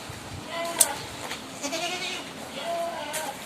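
Goats kept for sale in a livestock yard bleat a few times, short nasal cries rising above low background chatter and farmyard noise.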